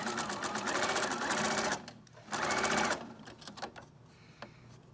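A sewing machine stitches over fabric scraps and thread with a rapid, even mechanical whir in two close bursts separated by a short pause. Softer clicks follow.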